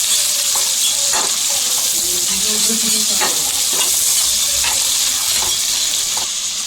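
Tomatoes and thinly sliced green chillies fry loudly in a pan for veg pulao, giving a dense, continuous sizzle broken by periodic scraping stirs from a spatula, with no voices.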